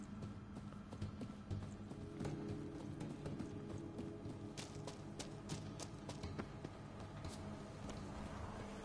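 Horse hooves clip-clop in The Witcher 3, a steady stream of light rhythmic clops over a low ambient game bed, moderately quiet and continuous.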